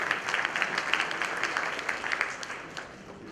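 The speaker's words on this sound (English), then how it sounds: "A big round of applause, ladies and gentlemen." An audience at a corporate technology awards ceremony applauds steadily, a soft, even wash of many hands clapping at a distance that tapers off slightly toward the end.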